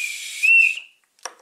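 A small toy whistle from a surprise-egg lucky dip gives one loud, shrill blast that rises in pitch and then fades, followed by a brief rattle.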